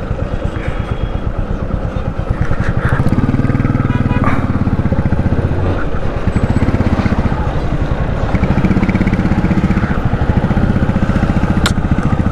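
A motorbike ridden on a rough, wave-rutted road between Kanchipuram and Chennai, its engine droning loud and close throughout, with pulsing throttle changes and wind buffeting.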